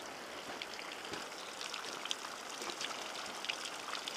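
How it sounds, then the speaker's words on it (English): Rain falling on a cold day, a steady close patter of drops with scattered sharper splashes, continuous and even with no voices. "It's a beautifully rainy and cold day."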